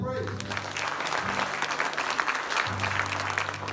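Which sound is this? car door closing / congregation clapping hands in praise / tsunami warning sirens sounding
congregation clapping hands in praise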